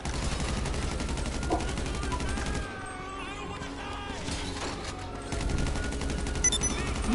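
Gunfire in a PS4 shooter, sniper fire included: continuous dense shots and blasts forming a loud, steady wash that dips briefly midway, with voices mixed in.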